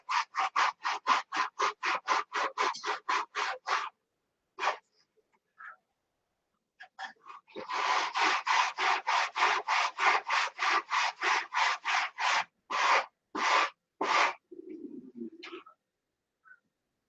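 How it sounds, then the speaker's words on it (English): Wood being sanded down by hand, a rapid series of close, loud rasping strokes in two bursts with a short pause between, no talking. "So we want to sand this down till it has about 1/8 of an inch."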